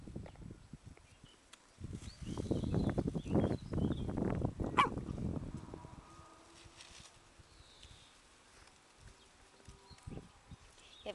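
A dog barks in a quick burst of several loud barks up close, then quiets, leaving faint background noise.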